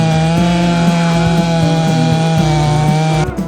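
A chainsaw cuts down conifer tree stumps, its engine holding a loud, steady high-revving whine with slight rhythmic load changes, then easing off just before the end.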